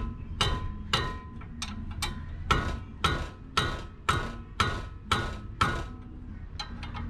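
A hammer strikes front brake parts on a 2010 Nissan Frontier, giving about a dozen loud, ringing metallic blows at a steady, slightly uneven pace, close up with no talking.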